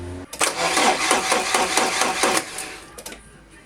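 Porsche fuel injectors fire during a test, giving a loud rapid burst of sharp mechanical clicks in quick even succession for about two seconds, then a couple of isolated clicks, close by with no talking.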